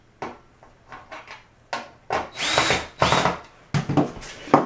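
Power drill driving screws into a QuickDrain wall drain cover, heard as several short whirring bursts of varying length with small clicks and handling noises between them.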